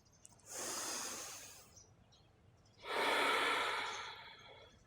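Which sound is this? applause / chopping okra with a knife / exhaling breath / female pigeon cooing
exhaling breath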